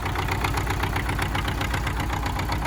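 MTZ-50 tractor diesel engine idling just after starting, a steady close rhythmic clatter with even knocking pulses and a low rumble, loud and continuous with no voices.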